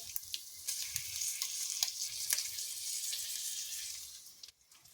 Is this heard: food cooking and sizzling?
yes